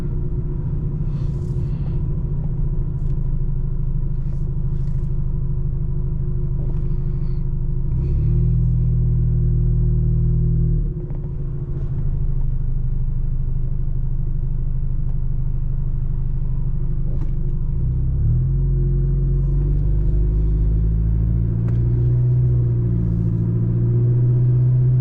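A 1996 Toyota Crown with a 2.4-litre diesel engine drives and makes a U-turn, heard from inside the cabin. A steady low engine rumble and road drone run throughout, with the pitch shifting as the car slows and accelerates.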